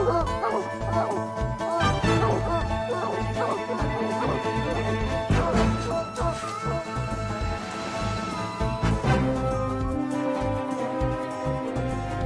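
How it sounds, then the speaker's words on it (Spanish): Cartoon dogs bark and yip repeatedly over busy background music, the barks coming in irregular bursts with occasional whimpers, fairly loud throughout. "¡Libera a los perros!"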